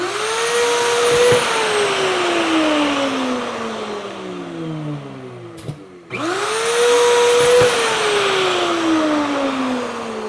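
A Hoffmann dovetail machine cutting a miter sample piece gives a loud, steady motor whine that sweeps in pitch, winds down, knocks once briefly, then spins back up to full speed.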